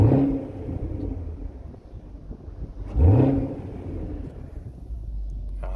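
A 2020 Camaro SS V8 in sport mode with its exhaust valves open revs twice, each rev a loud rising roar that settles into a deep, rumbling idle.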